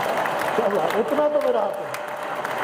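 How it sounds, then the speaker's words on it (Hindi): A poetry-recital audience breaks into applause, a moderate patter of clapping heard beneath a voice that keeps speaking over it. "थोड़ी सी तालियां तो बनती हैं"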